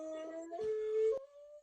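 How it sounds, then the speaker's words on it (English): A pet dog throws her head back and howls, a single sustained tonal howl that wavers, breaks and rises in pitch, loud and close with no talking. "To like throw her head back and howl like that, it's not a common behavior for her."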